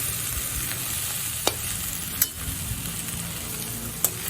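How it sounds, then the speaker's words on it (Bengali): Jute leaves stir-fried in a pan over medium-high heat give a steady sizzle with a few sharp scrapes of the spatula, close and alone with no talk. "আর এইভাবে একটু নেড়ে নেড়ে আলগা আলগা করে রাখবো"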